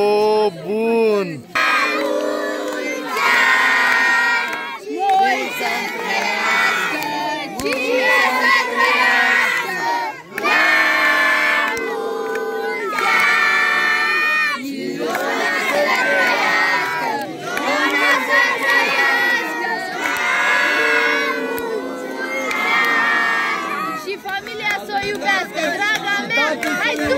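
Lively crowd at a Romanian local gathering cheering and shouting throughout, with children's voices mixed in, loud and continuous with only brief dips.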